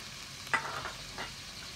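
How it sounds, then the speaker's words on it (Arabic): Chicken and vegetables stir-frying in a pan, with a couple of brief sizzling, scraping stirs over a quiet background hiss. "كنشحروا هذا الشيء مزيان، هنا غير كيطيح عندي داك الدجاج شويه"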